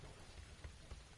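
Steady rain pours down in the PUBG video game on PS4, a dense continuous patter with soft low rumbling, brief and fairly faint.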